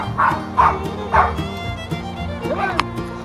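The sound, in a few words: puppy barking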